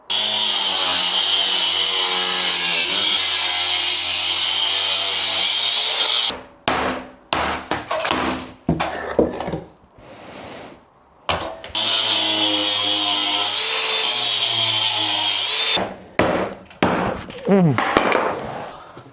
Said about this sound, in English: I'm gonna cut this with my angle grinder